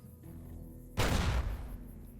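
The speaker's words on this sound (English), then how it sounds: "So, it's time for some fireworks" A single heavy fireworks explosion in Fallout New Vegas, a sudden loud boom that decays into a rumbling tail over about half a second, with quieter game ambience around it.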